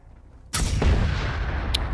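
A gunshot in the video game Generation Zero: a single sudden, loud, close blast that cuts in after near-silence and trails off into a sustained booming rumble and echo.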